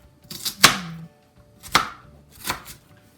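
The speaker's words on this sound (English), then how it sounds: "I turn them on their side and finish cutting them the rest of the way." A River Trader French ball knife chops an onion on a cutting board with three crisp, close strikes. They fall about a second apart with no talking.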